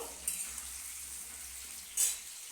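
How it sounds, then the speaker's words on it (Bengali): Potatoes for a soybean and potato curry frying in a pan, a soft, steady sizzle with two brief louder spatters, faint and without any voices. "এখানে আলুটাকে আমি লাল করে একটু ভেজে নেব"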